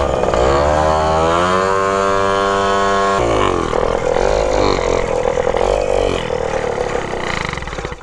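A 64cc Puch stunt moped engine runs close and loud, revving up with a rising buzzy whine, holding high, then dropping and fluctuating in pitch as the throttle changes.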